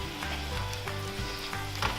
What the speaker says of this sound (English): Our ground meat is browning here, so we're just gonna stir it up and break it up as it cooks.